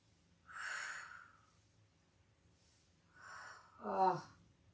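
Audible breaths during a gentle yoga warm-up: a soft exhale early on, then after a quiet pause a pair of breaths, the last one sharper and louder, like a sniff or snort, all close and faint.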